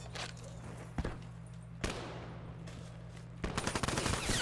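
A Weevil submachine gun in a first-person shooter fires several short, sharp bursts, with single crisp shots at one and two seconds and a denser rattling burst near the end over a low steady hum.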